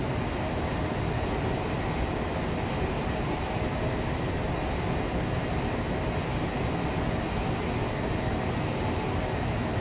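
An Aerosoft CRJ-700 regional jet touches down in Microsoft Flight Simulator, with a steady, dense roar of engine and rolling noise that holds even and unbroken throughout.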